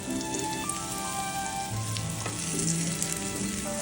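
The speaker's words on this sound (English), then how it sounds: "we're just going to let them fry gently until they're cooked on one side" Pork cutlets frying gently in a pan make a continuous, moderate sizzle with faint crackles and a few light clinks, heard close up and without talk.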